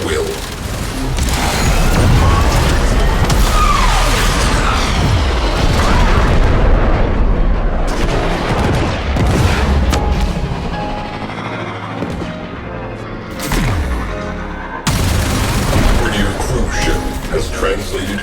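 Ship gunners firing weapons in a Warframe space battle: dense, loud volleys of bursts and booming explosions rolling continuously, with voices speaking over the barrage.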